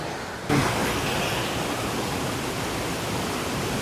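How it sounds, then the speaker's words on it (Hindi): A strong, fast river current in Canada rushing past as a dense, steady roar that begins abruptly and stays loud and close throughout. "पानी का फ्लो देखो यार"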